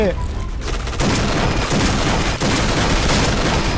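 Grenade blasts and gunfire in the Point Blank shooter game, with dense continuous booms and rapid shots filling the whole stretch at loud, close range.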